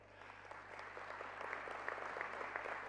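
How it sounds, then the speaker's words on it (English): Fairly distant applause from a large audience at a global peace convention, honoring the Speaker of the Congress of Paraguay, a continuous muffled patter of many hands over a low steady hum. "The Speaker of the Congress of Paraguay, could we also give him a round of applause as well?"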